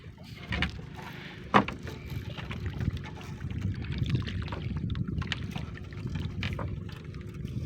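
Water laps and sloshes around a small fishing boat in steady wind, with a sharp knock early on and scattered splashes.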